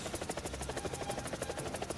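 Rotor thump of a G-Lynx helicopter in the War Thunder game, a steady rapid blade chop with a buzzing turbine whine, close and continuous with no talking.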